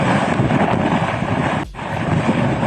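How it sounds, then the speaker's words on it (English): Strong Hurricane Ida winds near the Mississippi, gusting near 90 mph, roar loudly and continuously against the microphone with a brief dip in the middle before surging back. "I just want to show you the power of this wind right now"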